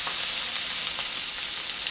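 Ginger, scallion and garlic stir-fry in a hot wok with a steady, loud sizzle and faint scraping of the stirring, continuous and alone with no talk, while fish omelet is prepared.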